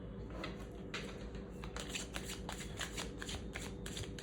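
Tarot cards riffled and shuffled up close, a continuous papery rustle broken by quick flicking bursts over steady background hiss, with no speech.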